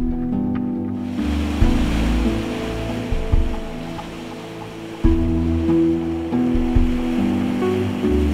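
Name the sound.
ocean waves on the shore in Kiribati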